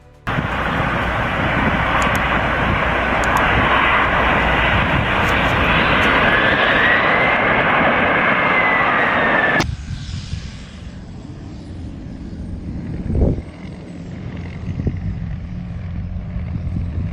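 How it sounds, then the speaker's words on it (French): A fixed-wing airplane makes an unusual landing, its engine roaring loud and close for about ten seconds before abruptly dropping to a quieter rumble with a single bump. "Un atterrissage hors du commun."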